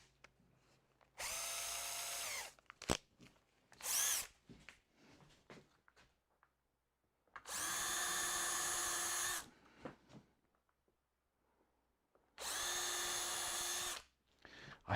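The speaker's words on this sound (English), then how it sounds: "I'm going to drill a tiny hole because getting near the edges, I don't want to split anything." A 2mm bit drills a tiny hole near the edge of a workpiece while mounting a ProEdge to a lathe cart, in three loud, steady power-drill bursts of about two seconds each separated by quieter handling noises, with no talk.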